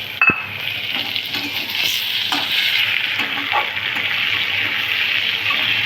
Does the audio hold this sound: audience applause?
no